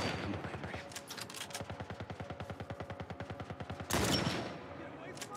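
Rapid bursts of gunfire in The Last of Us Part 1, a fast rhythmic volley of sharp shots running steadily, then a louder, denser blast near the end, with a voice faintly underneath.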